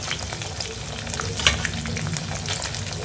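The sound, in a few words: sautéing cooked poha with curry leaves in pan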